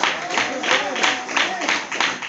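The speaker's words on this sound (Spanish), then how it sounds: "Denle un aplauso a Cristo." A church congregation clapping during a Spanish-language sermon, rhythmic group claps in a steady beat mixed with voices, fairly loud and reverberant.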